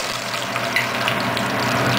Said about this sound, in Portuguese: Que comece a fritura